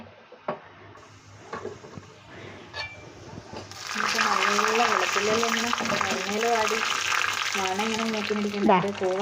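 Shallots softening in hot coconut oil give a steady, close frying hiss that swells and stays loud, with stirring scrapes, clicks, and a voice talking over it.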